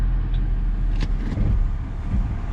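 A junk car's engine runs with a loud, steady low rumble as the car rolls forward in drive, heard close and continuous with no talking.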